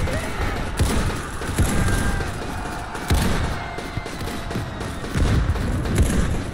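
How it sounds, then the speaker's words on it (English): Video game battle with repeated nearby grenade blasts and bursts of gunfire, loud booms hitting every second or so over a busy combat background. "I'm getting blown up by grenades every second!"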